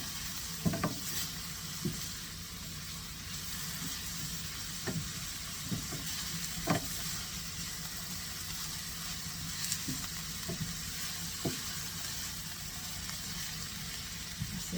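Steady sizzle of food frying in a pan, a constant crackling hiss with occasional soft stirring clicks and pops, close and moderately quiet, with no talking.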